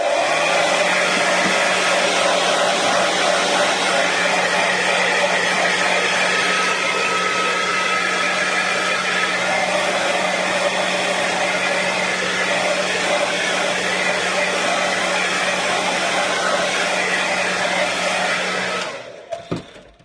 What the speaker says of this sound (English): I'm just going to quickly dry that off a bit, just a little bit of heat